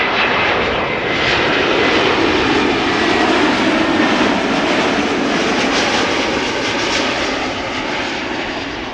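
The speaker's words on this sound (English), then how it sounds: "JetBlue arriving from New York" A JetBlue airliner in from New York arrives at Amsterdam Schiphol, its engines producing a loud, continuous roar that holds steady throughout with no voices.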